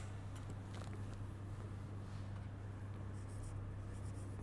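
Marker or chalk writing on a board during a chemistry lesson, faint scratchy strokes over a steady background hum, no talk.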